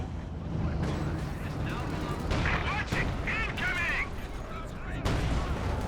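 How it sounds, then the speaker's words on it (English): Heavy gunfire and booming cannon blasts from a Company of Heroes 2 battle featuring a Panther tank, loud and overlapping in several bursts under an excited voice talking. "the Panther gets a sneaky shot off"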